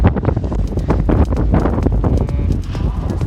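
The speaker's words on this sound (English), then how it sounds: "That wind is real, boy." Strong gusty wind blasts straight into a microphone outdoors during a DJI Mini 2 drone flight test, producing loud, continuous rumbling buffets with irregular thumps throughout.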